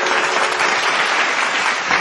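Audience at an Odia devotional bhajan program giving loud, sustained clapping to welcome a singer, an even, continuous burst with no talk over it.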